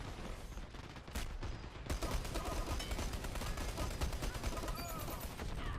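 Automatic gunfire in the online shooter Dirty Bomb rattles in rapid, dense bursts that run almost continuously after a brief lull, with gameplay noise mixed in.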